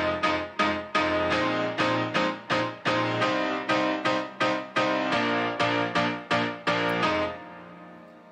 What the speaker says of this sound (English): You can always hear the piano progressions, typical house piano progressions